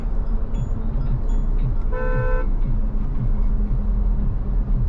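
Car horn honks once in a sustained toot amid a traffic jam on a road at Pawta during an Udaipur road trip, with steady engine rumble and road noise throughout.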